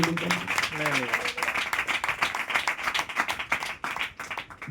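A church congregation claps in a quick, even rhythm, the claps landing over voices that carry on throughout.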